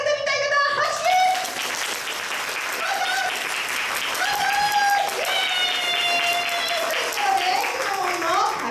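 An audience at a Kumamon stage appearance claps in a sustained, fairly loud burst, while shouting or cheering voices rise and fall over the applause.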